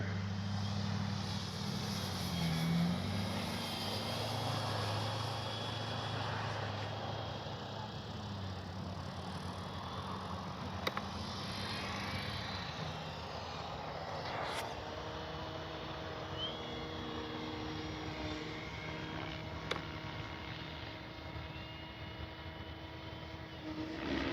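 A Flightline F4U Corsair radio-controlled warbird flies overhead with a steady, continuous propeller drone that holds at moderate distance and rises and falls slightly in pitch as it passes.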